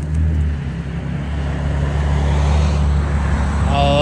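A 2013 Audi A6 with a 3.0L supercharged engine and muffler-delete exhaust rumbles loudly nearby, holding a deep steady idle that swells slightly toward the end.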